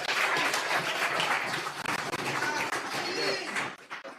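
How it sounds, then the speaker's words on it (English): Audience applause at a political party town hall meeting on hurricane recovery, a dense sustained crowd clapping that fills the room and tapers off near the end. "Please give Mr. Mark Golding another round of applause"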